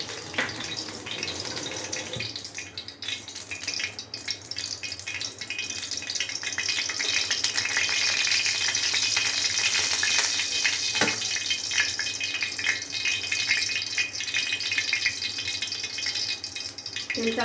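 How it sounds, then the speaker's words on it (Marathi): Oil poured into a preheated kadhai begins to heat with a steady, close hissing sizzle that swells after the first couple of seconds and holds at an even level with no voices. "त्याच्यासाठी मी कढई आधीच गरम करत ठेवली. तेल टाकून घेऊया."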